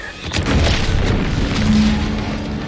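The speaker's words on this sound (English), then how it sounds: "Was that an explosion?" A deep, rumbling explosion in The Outer Worlds 2 on Xbox Series X booms and then rolls on as a heavy low roar, loud and sustained, with no one talking.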